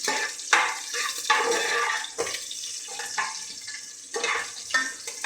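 Cashews frying in a pan for ven pongal, a steady sizzle and crackle of hot fat with intermittent stirring scrapes, close and moderately loud with no talk.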